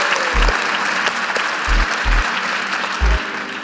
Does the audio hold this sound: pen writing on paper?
no